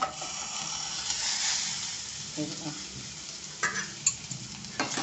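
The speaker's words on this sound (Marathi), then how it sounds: "आता अगदी मंद गॅसवर ही भाजी आपल्याला शिजू द्यायची आहे अगदी मऊ होईपर्यंत" Stuffed gunda vegetable cooking on a low gas flame, a gentle hiss of sizzling under a lid with scattered soft clinks and stirring taps, fairly close and moderate in level.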